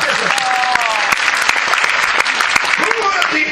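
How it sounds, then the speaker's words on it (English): An audience at a history festival talk claps enthusiastically, dense sustained applause filling the room, with voices and a few shouts mixed in. "Could you give yourselves a clap?"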